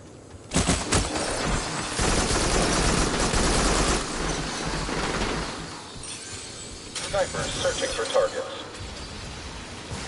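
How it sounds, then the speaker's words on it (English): Dense, rapid gunfire from many weapons erupts in the VR shooter Farpoint, a loud sustained barrage with a brief lull before it resumes, mixed with voices talking over the action. "there's so many of them. Just like so many shots firing."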